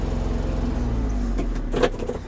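A Kubota GL-261 Japanese mini tractor with a cab creeps along in low first gear. Its engine gives a steady, close, low drone with a brief rustle near the end.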